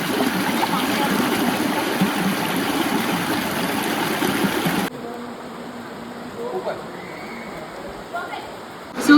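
A clear stream on a forest trail flows with a loud, steady rush, then turns quieter and thinner partway through, with faint trickling and occasional soft sounds.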